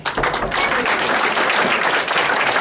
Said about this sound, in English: Can we give a round of applause for John?